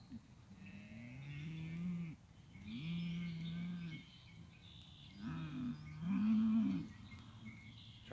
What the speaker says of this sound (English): Pissed cow coming in.